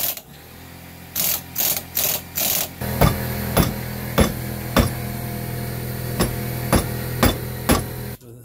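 Wrench cranking a press to seat a U-joint on a Chevrolet S10: a run of four sharp ratcheting bursts, then steady evenly spaced metallic clicks and knocks, close and alone.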